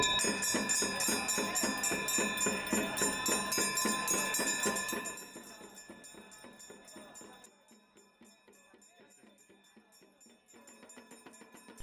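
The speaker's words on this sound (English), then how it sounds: "The bells have just started going off." Many temple bells ring continuously at a ceremony in India in a dense, shimmering clangor that thins out midway, leaving softer, scattered ringing at a distance.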